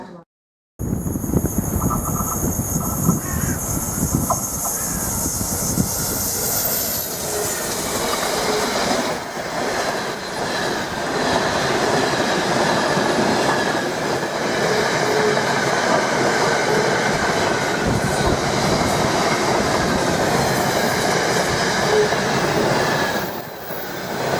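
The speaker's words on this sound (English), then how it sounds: "Is the Class 755 Flirt unit with the Great British Railways coming soon branding on the side." A Class 755 Flirt multiple unit in Great British Railways branding passes close by, a loud, sustained rush of wheels and rails with faint squeals and rhythmic clicking that holds steady before easing near the end.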